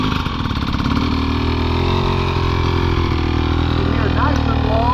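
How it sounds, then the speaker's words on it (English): A dirt bike engine holds low RPM on an incline during clutch-control drilling, a loud, steady, close drone without brakes, with someone talking over it throughout. "maintain low RPM and slow the machine with just your engine"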